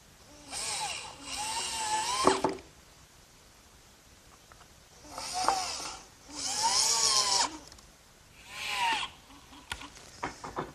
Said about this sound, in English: I'm ready to set this piece in place and fasten it to the frame with some screws